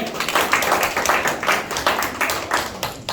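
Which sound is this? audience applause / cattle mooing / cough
audience applause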